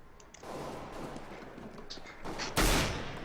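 Gunfire bursts in the video game CS:GO, with a clutter of shots followed by one loud, sharp blast near the end, over a busy game background.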